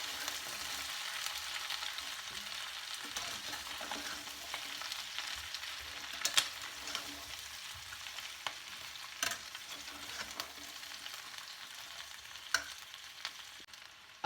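Marinated chicken deep frying in hot oil for chilli chicken, giving a steady, soft bubbling sizzle with occasional sharp crackles and pops, heard close and alone without any talking.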